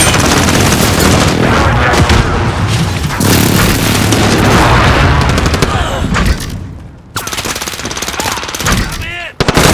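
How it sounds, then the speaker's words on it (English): Constant machine-gun fire and heavy booming explosions from a precision airstrike fill a Call of Duty Modern Warfare match in a park, loud and dense, with a brief lull near the end before the blasts return. "friendly precision airstrike inbound"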